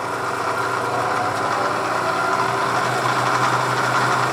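A Bridgeport Series 1 milling machine with a 2 hp motor runs at low spindle speed, giving a steady, loud mechanical hum with a constant low drone and light vibration, no voices over it.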